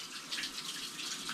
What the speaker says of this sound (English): turn it on and it fills with water